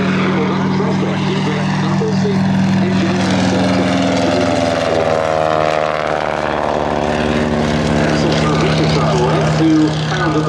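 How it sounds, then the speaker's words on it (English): Sopwith and Triplane First World War aircraft crossing at show centre during an airshow, their loud, steady propeller engine drone continuous throughout with a shifting pitch as they pass, commentary faintly underneath. "A very nice crossover by Sopwith and Triplanes in show centre."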